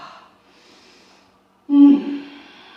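A single sharp, forceful exhale bursts out during a yoga flow, loud and close after a near-silent pause, trailing into a softer breathy tail.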